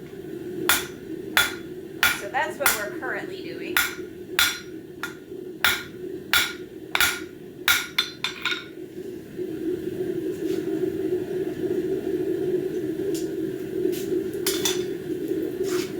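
A hammer strikes the corners of a bird feeder hanger again and again, sharp metallic knocks at an irregular pace. A voice speaks briefly as the blows stop, and then a steady hum carries on with a few scattered taps.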